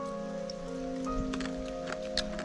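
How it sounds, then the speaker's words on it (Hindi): Rain falling steadily over a mountain village in winter, a soft continuous patter with scattered drips and ticks, fairly quiet, with a steady low hum underneath and no talk. "बारिश अभी भी नॉन स्टॉप लगी है"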